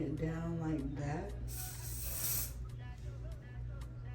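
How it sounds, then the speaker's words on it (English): A short hiss of liquid spray bursts out once onto a finger while applying a glueless wig, close and bright, following a quiet voice and leaving soft background noise afterward. "I'm just going to be spraying it on my finger and then laying it down like that"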